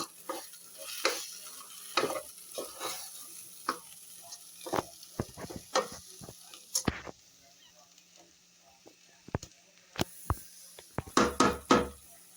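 Chilli powder is sautéed in a pan for a black chickpea curry, with sharp, intermittent stirring scrapes and clinks over a soft sizzle. Each burst is close and brief, separated by quiet gaps.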